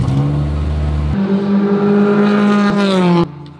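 A Formula 4 race car drives on a track, its engine loud and close with a strong tonal whine that climbs and shifts pitch as it accelerates, then cuts off abruptly near the end.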